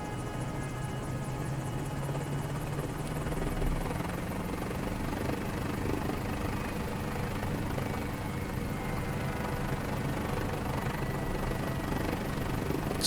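The engine of a Mini 500 helicopter in Microsoft Flight Simulator runs through an automatic start, a continuous droning whine and rotor hum that holds steady at a constant level throughout, with no voices.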